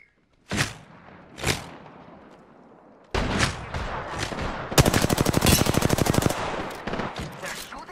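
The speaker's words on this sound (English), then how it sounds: "They're shooting at me?" Video game gunfire: two isolated loud shots, then a steady stream of firing that swells into a rapid machine-gun burst before easing into scattered trailing shots.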